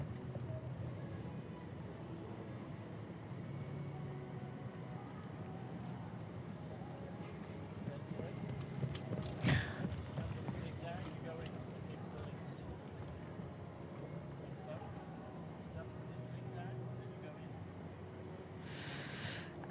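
Hooves of big horses pulling a carriage in a four-in-hand driving competition at a European championship, a steady clip-clop under constant crowd murmur, with a brief louder burst midway.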